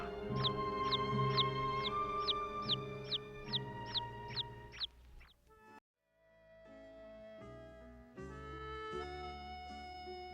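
Chicks cheep in a quick run of bright, evenly spaced peeps, then the sound drops out and sustained music takes over.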